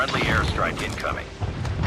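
An EMP strike landing in a multiplayer shooter game, a deep rumbling boom with rolling crackle that swells and surges for a couple of seconds, close and loud.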